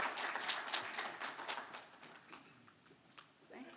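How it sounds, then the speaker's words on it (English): Audience applause for a competing team at the Pantex Innovation Challenge, a burst of dense clapping that thins and fades over a few seconds, faint and distant. "Let's give Team 1, Aurora, a big round of applause."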